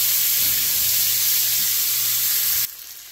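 Steady, loud sizzling from food frying in a pan until golden brown, a dense hiss with a faint low hum beneath that drops away abruptly near the end.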